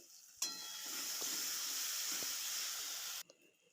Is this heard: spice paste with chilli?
yes